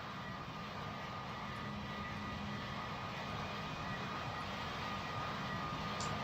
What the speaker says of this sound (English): it seems that we might have FedEx 737, the first cargo aircraft of the day